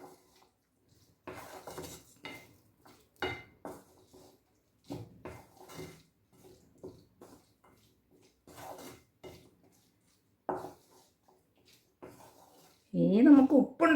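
A spoon stirs and mixes food in a pot, making intermittent metallic scrapes and clinks in short bursts with quiet gaps between them, ending in a louder, longer clatter.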